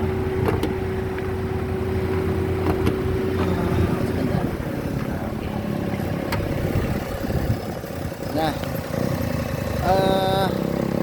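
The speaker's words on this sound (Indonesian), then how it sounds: "kita perhatikan suara mesin sama getaran mesin" A 2012 Daihatsu Xenia's 1.0-litre three-cylinder engine idles steadily and loudly up close, a constant low rumble with occasional faint chirps and clicks over it.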